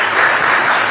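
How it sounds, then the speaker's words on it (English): A brief burst of loud, dense applause from an audience, steady throughout. "Please, big round of applause"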